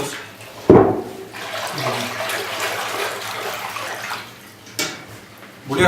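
Water pours and splashes steadily into a vessel to soak sheepskin for Buryat-style hide dressing with soda ash, a sharp knock near the start and a fuller splash at the end, with faint voices in the background.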